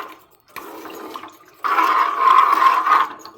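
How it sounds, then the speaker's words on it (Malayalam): Tamarind water is poured into a pot for a Kerala fish curry in a home kitchen, a brief splash followed by a sustained, rushing pour that runs for over a second before tapering off. "ഇപ്പം പുളിവെള്ളം നമ്മളിങ്ങനെ ചേർത്ത് കൊടുത്തു."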